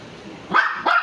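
Two loud, close barks from a dog reacting to a cat, each a sharp burst with a short pause between them, with no other sound around them.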